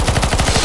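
Rapid automatic gunfire in the video game CS:GO Zombies on a Lord of the Rings Isengard map, with a loud, steady stream of close shots and no pauses.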